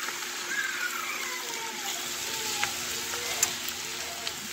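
Cabbage cooks in butter in a pan, giving a soft, continuous sizzle and hiss with occasional small pops, close and moderate in level.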